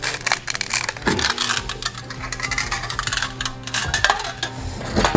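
A stainless submersible pump motor housing being pried open, with dense metallic scraping, knocks and rattling at close range and no voice.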